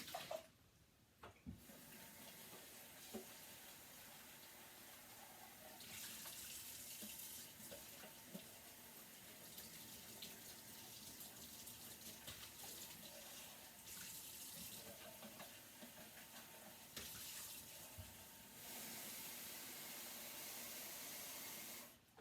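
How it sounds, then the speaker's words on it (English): A paint bucket being emptied and refilled with clean water, heard as a steady gushing rush of running water with brief pauses and splashes, fairly close and continuous. "I'm going to dump out my bucket and put some clean water in."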